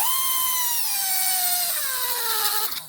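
A power grinder runs steadily on rust on the wheel hub mating surface of a 2016 Subaru Impreza, a close, loud whine whose pitch sags slightly under load before cutting off.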